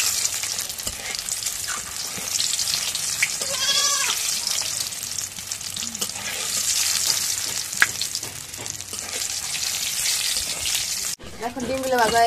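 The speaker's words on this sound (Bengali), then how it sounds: "এখন ডিমগুলো ভেজে নেই তেলের মধ্যে।" Eggs frying in hot oil with turmeric while making aloo chop for iftar, a steady close sizzle with stirring clatter throughout, a few bleating animal calls in the background and a sharp break near the end.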